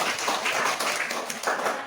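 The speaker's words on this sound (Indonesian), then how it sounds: "kita berikan tepuk tangan untuk kelompok 1" A small classroom group claps for a presenting discussion group, a short burst of uneven, distinct hand claps with audible individual slaps, fairly close and moderately loud.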